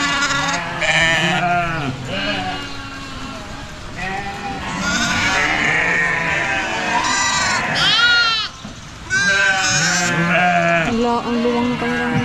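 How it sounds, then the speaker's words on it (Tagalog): Goats and sheep bleat repeatedly at a ranch, a close, loud chorus of overlapping wavering cries with a brief pause near the end, mixed with someone talking. "sama-sama na po dyan yung ating kambing at ang ating mga tupa"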